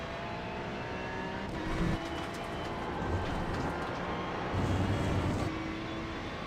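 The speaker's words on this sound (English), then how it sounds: "This car feels pretty loud on the inside." Ferrari GT3 race car in iRacing at Road America, engine heard from inside the cockpit: a loud, steady high-revving drone with rising pitch sweeps and brief shifts, no talking over it.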